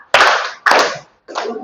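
Loud, close bursts of children clapping together in a classroom clapping game, three separate clusters of claps with short pauses between them, sharp and snappy.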